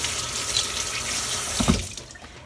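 Tap water runs steadily into a kitchen sink while a cucumber is washed, a soft continuous splash with a brief louder gush near the end, then quieter; no voices.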